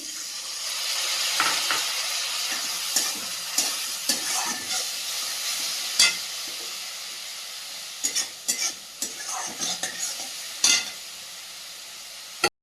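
Wet spice paste hits hot oil in a wok and sizzles steadily, with scraping stirs and intermittent bursts of crackling spatter close by.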